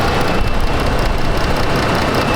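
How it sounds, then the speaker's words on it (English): Engine cooling fans run on an overheating Chrysler 200, a loud, steady broadband whoosh that holds without a break. "Fans are running."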